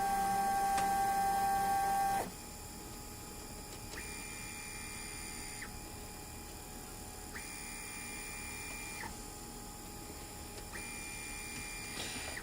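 A 3D printer running at faster speeds, with perimeters printed at 60 and infill at 100. It gives a loud whirring burst at first, then a steady hum with repeating stepper-motor tones that rise and fall in a regular pattern, with no talk.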